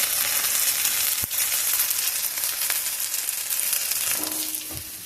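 Breaded chicken cutlets fry in a pan for a chicken Parmesan, a constant dense, bright sizzle with a single sharp knock early on and a small clink near the end, heard alone with no voices.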